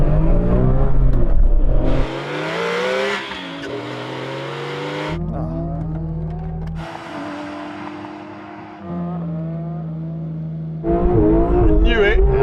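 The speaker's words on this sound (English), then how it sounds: "let's make sure that our tyres are nice and warm" Several Porsche 911 GT3 RS engines rev and drone loudly in turns, their pitch climbing and settling while the drivers warm up the tyres before a drag race, with a voice talking over the engine noise.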